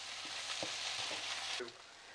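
Onions sautéing in a pot for mutton dum biryani masala give a loud, steady close sizzle with a few scraping stirs of a spoon, the frying quieting slightly near the end; no talking.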